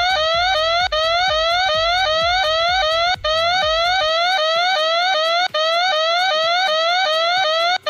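A loud electronic siren blares from an Android phone app lock after a wrong password is entered, a rapid repeating rising wail cycling steadily and close throughout, with no voices.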